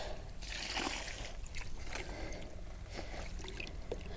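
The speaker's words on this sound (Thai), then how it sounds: "น้ำไหลลงที่เก่า" Water trickles and sloshes back into a muddy pond during hand fishing for fish, close splashy dribbles and pours in uneven bursts over a low background.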